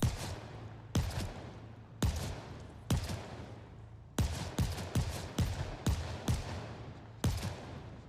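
M9 gunfire in a video game: a series of sharp single shots, each with a short ringing tail, spaced irregularly from about one per second to quicker clusters, loud and alone.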